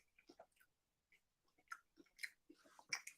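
Close, quiet crunchy chewing of a bite of ice cream, with irregular crisp bites and mouth sounds spread across a few seconds, alone without talk.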